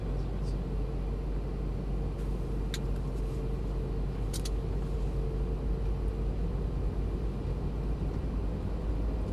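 A Lamborghini Gallardo LP 560 pulls away gently in first gear, its engine a steady low rumble that holds close and even throughout, with a few faint clicks above it.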